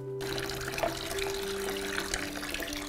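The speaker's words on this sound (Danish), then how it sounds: "Kom du bare med resten af vandet, Jakob." Water pours steadily into a toilet, a continuous splashing stream with a low tonal hum beneath it and no talking.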